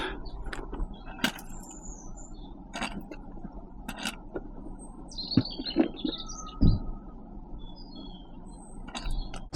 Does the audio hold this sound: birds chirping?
yes